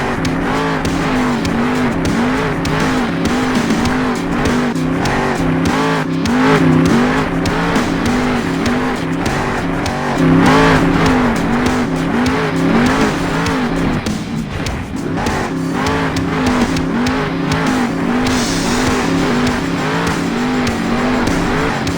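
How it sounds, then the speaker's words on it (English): A monster truck in Monster Jam Steel Titans power-spins back upright: a loud, continuous engine roar with revving surges and squealing tires, close and unbroken throughout. "I want you to power spin your way back upright."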